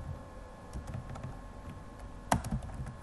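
Keys on a computer keyboard are tapped out while a short message is typed, a run of light, close clicks with a few sharper, louder keystrokes near the end, no talking.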